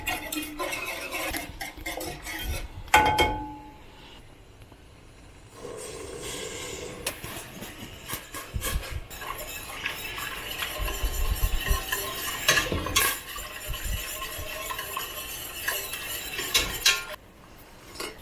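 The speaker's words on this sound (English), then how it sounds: "You keep whisking that in, and then you let it get back to a rolling boil again." Sugar being whisked into boiling violet and dandelion jelly liquid in a small pot, giving a continuous rattling whisk scrape against metal with a few louder clinks, close by and without talk.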